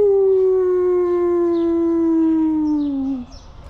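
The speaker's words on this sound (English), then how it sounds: "Wow, baby wolves." Young wolves howl in one long, loud, sustained wavering tone that slowly drops and fades out near the end, heard close at a zoo enclosure in Baghdad, Iraq.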